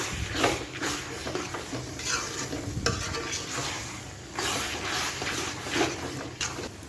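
A spoon stirring gajar halwa (grated carrot pudding) with cashews in a hot pan, giving a steady sizzle broken by rhythmic scraping strokes, close and moderately quiet, with no talking.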